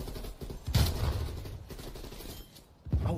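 Gunshots in the shooter game Call of Duty Warzone: two heavy, booming shots about two seconds apart, with rumbling background noise between them.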